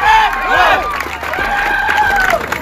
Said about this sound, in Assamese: সকলোকে এজাৰি হাত চাপৰি দিবলৈ অনুৰোধ জনাইছোঁ